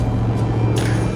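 A loud E85 car engine idling close by, a deep steady rumble throughout with a brief hiss of background noise partway through.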